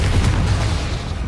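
A Confringo fire spell blast in Hogwarts Legacy bursts as a loud, dense low boom with a rumbling tail, sustained through the whole moment amid battle noise.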